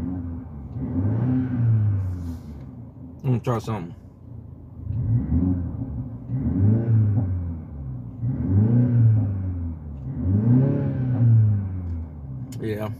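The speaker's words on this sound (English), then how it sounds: "I'm letting the car kind of heat up before I take off" A car engine idles steadily to warm up and defrost the windows on a cold morning, a low continuous rumble running beneath someone talking throughout.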